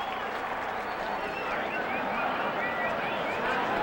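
At Texas Stadium during an NFL football game between the Giants and Cowboys, a big crowd keeps up a sustained, even roar of cheering, with a commentator's voice faintly underneath.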